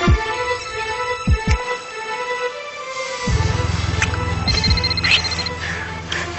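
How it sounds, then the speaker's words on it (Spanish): A mobile phone rings with a repeating electronic tone over a low musical bed in a drama scene, steady and fairly clear after a few sharp knocks, and no one speaks. "Es mi celular."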